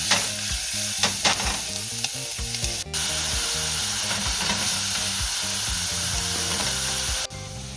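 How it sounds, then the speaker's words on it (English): Garlic and onion sauté in a pan for a pepper hot sauce, a loud close sizzle with repeated rhythmic stirring and scraping, broken by two abrupt brief cutoffs. "saute that about 5 minutes or so until it starts to become translucent"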